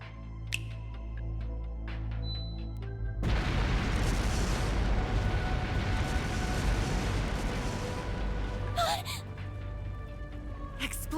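Fireworks explosions in Trails through Daybreak erupt suddenly after a quiet stretch, becoming a loud, continuous rumbling roar of blasts that runs on for several seconds before a few sharper crackles near the end.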